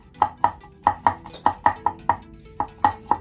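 A knife chops garlic on a board in a home kitchen, making steady sharp knocks roughly every quarter second with one brief pause, close and clear with no talking.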